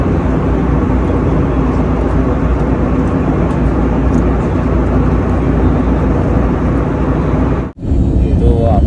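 Loud, steady cabin roar of a passenger airplane descending to land at Ahmedabad, continuous and broadband, with a brief dropout shortly before the end.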